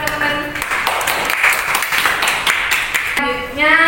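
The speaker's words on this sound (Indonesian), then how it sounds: "Beri tepuk tangan teman-teman." Classmates in a primary school classroom clap together in a brief burst of applause, with children's voices chanting and talking over and after the clapping.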